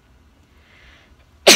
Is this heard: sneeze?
yes